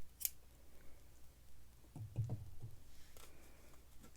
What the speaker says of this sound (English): take my scissors and just trim right along the top